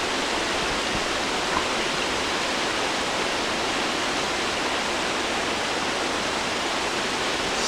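Wren Falls pours in a continuous, broadband rush of falling water, steady and fairly loud throughout with no voices.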